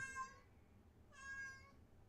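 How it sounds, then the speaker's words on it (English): Two drawn-out meows from a cat, the first short and the second longer, faint and somewhat distant against a quiet background. "Can you hear him meowing?"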